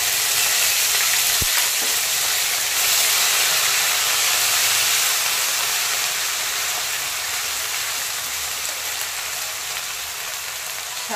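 Ginger and cumin paste fries in oil tempered with whole spices, a steady, loud, close hiss of sizzling, broken early by a single sharp tap, with no talk.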